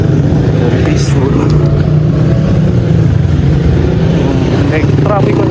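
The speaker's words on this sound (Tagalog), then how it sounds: "May traffic congestion pero manageable." Steady street traffic in the Little Baguio neighborhood of San Juan, Metro Manila, on a morning with some congestion: a continuous low rumble of car and motorcycle engines close by, with occasional passing vehicles and faint voices underneath.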